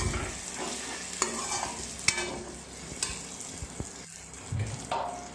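Green chillies and meat fry in oil in a pan, giving a steady close sizzle broken by occasional clicks and knocks of stirring, no voices.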